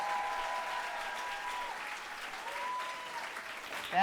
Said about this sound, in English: I need you to give an even bigger round of applause to Piper Kerman,